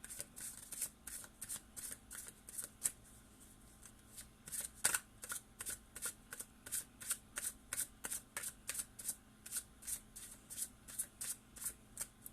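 Tarot cards are riffled and shuffled in a long run of quick, crisp, evenly spaced flutters close to the microphone, with a single louder snap partway through, at a quiet level.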